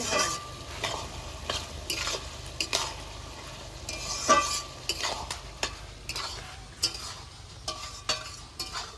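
Bottle gourd with turmeric stirred in a pan, a spatula scraping and clinking in irregular strokes over a steady low sizzle, close and moderately loud, no talking.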